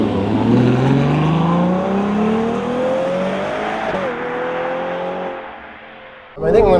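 A Ferrari Purosangue engine revving up, its rising tone climbing steadily before dropping off, then a short burst at the end; loud and close with no talking.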